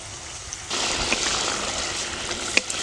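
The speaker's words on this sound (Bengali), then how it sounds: "এবার দিয়ে দেব আমি জল" Water poured into a pan of potatoes being fried for a Bengali rui fish curry with bean seeds, a steady splashing rush starting suddenly and continuing close by, with a couple of small clinks.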